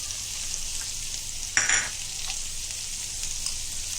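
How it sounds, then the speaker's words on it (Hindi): Chopped onion with salt fries in a pan under a steady, even sizzle, with one brief scrape of a stirring utensil partway through. "ये देखो अभी हम प्याज डाले, प्याज को नरम करेंगे। ये डालेंगे उसमें नमक और नरम करेंगे प्याज को"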